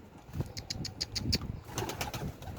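Pigeons landing near scattered feed, with soft wing flaps and scattered thumps at close range, a few faint coos mixed in over a light outdoor background.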